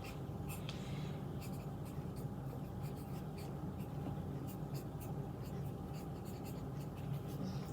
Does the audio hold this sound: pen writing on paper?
yes